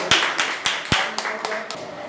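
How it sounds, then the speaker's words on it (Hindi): Hands clapping at a Hindi Diwas poetry gathering, a sparse run of about seven distinct, close claps slowing and fading over two seconds. "एक बार जोरदार तालियों से।"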